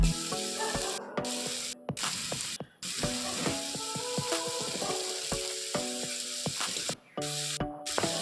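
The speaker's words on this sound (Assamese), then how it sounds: "ভালকৈ এনেকৈ লৰাই দিলো" Local chicken with ginger, garlic, cumin and chilli powder being stirred in a frying pan, with a steady close sizzle broken by repeated scraping and clinking strokes of the spatula, no talking.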